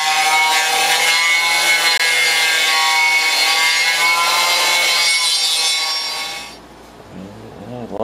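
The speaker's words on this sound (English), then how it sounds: "And then some more grinding." An angle grinder works over brazed metal on an anchor winch being rebuilt with MIG brazing, giving a loud, continuous, harsh grind for about six seconds before it trails off into a quieter rumble.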